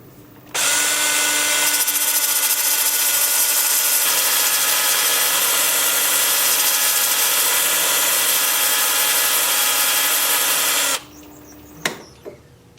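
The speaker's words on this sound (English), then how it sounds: "So let me get my mask on here and I'll get to sanding." Power sanding of maple wood: a steady, loud abrasive whir runs continuously for about ten seconds, then stops, followed by a couple of brief knocks.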